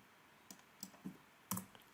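A few faint, sharp clicks of computer keyboard keys being pressed, including the Enter key, spaced irregularly in a quiet room.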